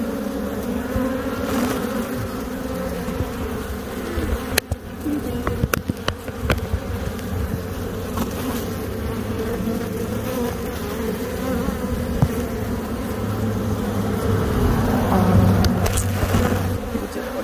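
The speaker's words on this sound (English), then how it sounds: "What's up with these bees?" A dense swarm of bees buzzes continuously and loudly close by during removal of a hive from a tree outdoors, with a few sharp knocks and clicks partway through.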